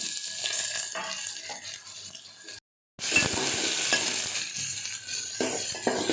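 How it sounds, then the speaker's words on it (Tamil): Onions sizzle and fry in a pan while being stirred, a continuous crackling hiss with scraping sounds and a brief silent gap. "இப்போ வெங்காயம் வதங்கட்டும்."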